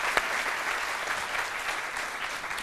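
Continuous, fairly faint audience applause during an event on violence against women, an even wash of clapping from a crowd that holds steady for under three seconds.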